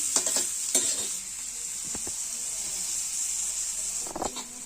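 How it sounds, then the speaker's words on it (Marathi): Chopped onion frying in a pan, a constant bright sizzle with a few scraping stirs near the start and end, close and fairly loud, no speech. "आता कांदा टाकून घेऊ आपण छान असे परतून घ्यायचे"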